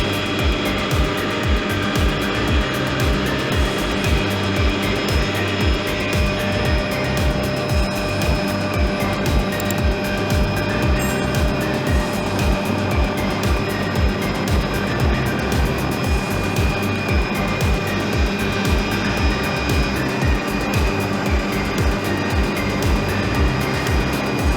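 Steady broadband rotor and engine drone from a tour helicopter flying over Oahu on a rough, bumpy day, loud and continuous throughout with no talk.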